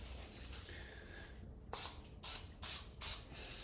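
Cooking spray hisses onto a muffin tin in four short, sharp bursts close by, the last three evenly spaced, after a quieter stretch of kitchen noise.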